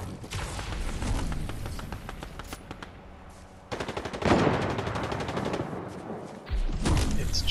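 Rapid bursts of automatic gunfire crackle in an online shooter game, firing in repeated volleys with a few heavier thumps between them, loud and dense throughout.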